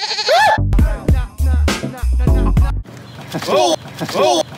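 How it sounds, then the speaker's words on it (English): Goats bleat repeatedly and close by, several wavering cries in quick succession, with a person's voice mixed in between the calls. "Goats."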